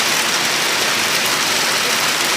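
Rain falls steadily in the Jamaican countryside, a loud dense hiss of drops on surfaces that stays even and unbroken throughout.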